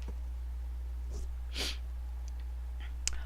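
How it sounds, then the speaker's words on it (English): A single sneeze from a person at a computer during a Skyrim gaming live stream, a short, moderately loud burst over a steady low electrical hum in an otherwise quiet room. "if I sneeze once, odds are gonna be good that I'm gonna sneeze half a dozen times"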